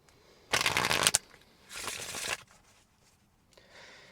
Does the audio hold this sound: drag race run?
no